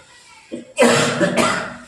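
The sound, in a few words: cough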